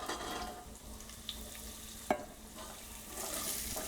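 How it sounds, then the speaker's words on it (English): Carrots sauté with garlic, ginger and red chilies in a pan, giving a soft steady sizzle with a few spoon scrapes and clicks, one sharp knock midway and a brighter frying hiss toward the end. "and just keep sauteing it"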